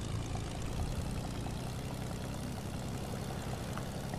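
Airplane engine in a video game, a steady, loud propeller drone with a constant rumbling hum and no breaks.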